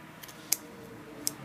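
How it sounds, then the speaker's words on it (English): Scissors snip paper hanging over the edge of a glued page, two sharp, crisp cuts about three-quarters of a second apart, close and quiet otherwise. "That's hanging off the page, so I'm going to give it a snip."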